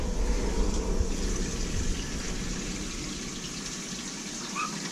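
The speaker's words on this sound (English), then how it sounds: "So the water should be coming in here." Water rushes steadily into domestic hot water piping feeding a buffer tank as the line fills, a continuous close gushing hiss that eases slightly toward the end.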